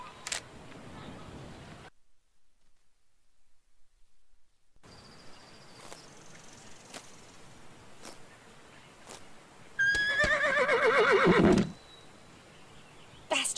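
A horse in the video game Ostwind (Windstorm) lets out one loud, shrill whinny that rises and shakes before trailing off, with scattered clicks and quiet gaps around it.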